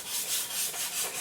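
Sandpaper rubs back and forth along the edge of a balsa wing for a catapult or tip-launch glider, making a soft, rhythmic scratchy hiss in quick close strokes.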